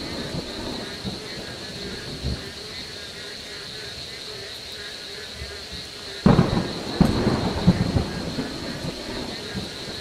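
Heavy rain roars steadily through a thunderstorm, broken by a sudden loud, close thunder crack from a nearby lightning strike and a second rumbling burst right after.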